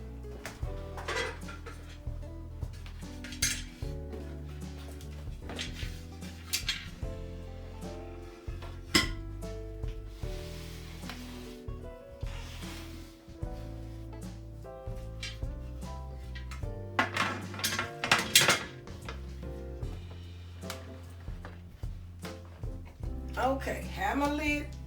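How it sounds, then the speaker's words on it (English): A metal lid set onto a pressure canner full of jars, with scattered clinks, knocks and metallic clatter at close range under a person talking. "we're going to put the lid on."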